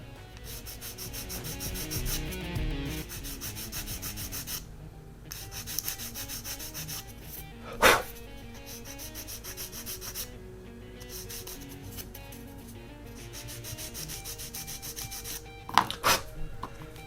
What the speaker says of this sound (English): I've got to do some sanding to get rid of all that.